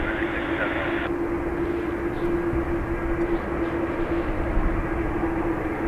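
An airliner, Delta flight DL177 bound for Atlanta, takes off from Dublin Airport runway 28 right, heard as a steady broad roar at a distance with a constant tone running through it while a voice talks over it.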